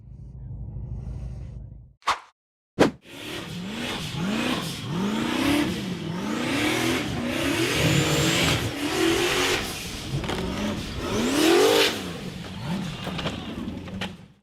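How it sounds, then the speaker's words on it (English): A gray off-road buggy's engine roars and revs hard as it climbs a steep, rocky dirt slope, loud and close with rising and falling pitch sweeps, after two brief sharp bursts near the start. "The gray buggy accelerated hard up the steep, rocky dirt slope."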